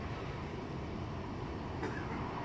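A Virgin train departing Motherwell on the West Coast Main Line toward Glasgow Central, heard as a low, steady rumble of rolling stock at moderate distance with a faint brief squeal near the end.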